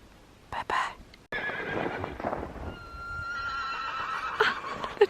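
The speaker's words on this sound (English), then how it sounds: "They're talking to horses that are inside the building." Horses inside a building neigh and whinny in several drawn-out calls, with hoof clip-clop and stable noises, moderately close and clear.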